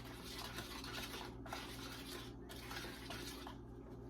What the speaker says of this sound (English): And then I'm going to mix my dough up.